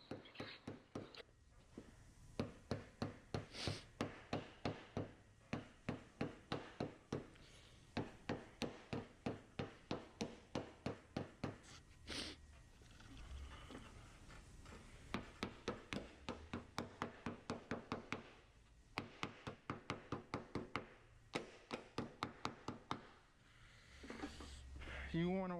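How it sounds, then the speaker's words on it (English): A hammer folds the edges of a Toyota door skin over a wood block onto the door shell, many sharp evenly paced close strikes in long runs separated by short pauses. "I begin folding the edges of the door skin onto the door shell so I can permanently place my door skin"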